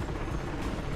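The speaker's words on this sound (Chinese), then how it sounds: "VTOL should arrive any second now." VTOL aircraft arriving in Mirror's Edge Catalyst, a steady rotor-like rumble and whir that stays faint and even throughout, with no voices.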